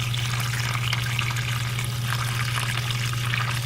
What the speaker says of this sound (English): We clamped it, and the water's coming out from here.